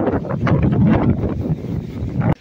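Strong wind buffets the microphone outdoors with loud, rough, gusting rumble. It sounds close and continuous, then cuts off abruptly at the end.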